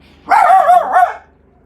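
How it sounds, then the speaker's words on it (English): A single drawn-out bark, close and loud, wavering in pitch for about a second before cutting off into quiet. "I've currently got my mum's dog, so they're barking."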